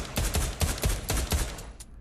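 Pistol firing in the game Pavlov Shack, a rapid run of about seven sharp, fairly loud shots in an uneven rhythm over two seconds, ending with a fainter click.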